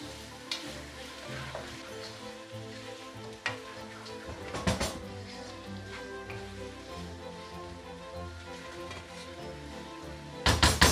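Chicken curry with black sesame paste crackles quietly in a pan, a low steady sizzle with occasional scraping and knocks from stirring, louder bumps near the end.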